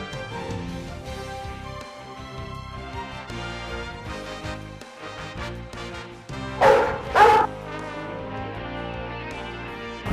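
A police service dog barks and yips close by in short bursts, with whimpering between them, then gives a loud double bark. Tonal background sound runs throughout.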